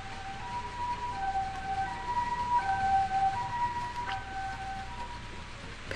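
An ambulance siren wails in a repeating two-tone pattern, moderately distant and steady over a low background rumble, in the horror video game Corpse Party.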